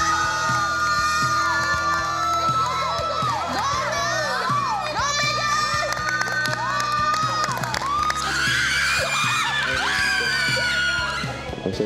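A loud crowd, many of them young, shouts, screams and cheers continuously and close by at a reality-show event, with a dense roar of overlapping voices rising further near the end.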